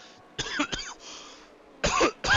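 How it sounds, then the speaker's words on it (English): Several loud, close coughs from a race commentator, coming in two bursts with a pause between them, over a quiet background during coverage of a sim racing event in Azerbaijan. "Apologies for coughing."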